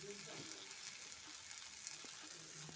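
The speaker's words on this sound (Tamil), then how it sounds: "தக்காளியும் நல்லா வதங்கட்டும்." Tomatoes sautéing in a pan give a soft, steady sizzle with occasional light stirring clicks, faint and alone.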